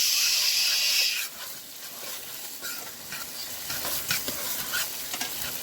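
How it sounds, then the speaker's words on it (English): A small spoon stirs tomato paste in a hot pan, with a loud hiss at first. It then settles into a softer sizzle with scraping stir strokes, and no one talks. "I'm going to mix with a small spoon."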